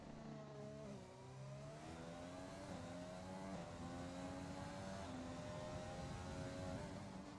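A Formula-style race car engine in a racing video game, screaming at sustained high revs with rising and falling gear pitches throughout a hot lap around Singapore's street circuit, steady and loud.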